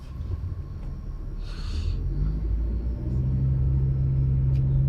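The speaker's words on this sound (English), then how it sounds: "a large white pickup truck appears as if out of nowhere with their headlights on full beam" A large white pickup truck drives close behind at night, its low engine rumble and road noise steady and swelling slightly louder, with no voices.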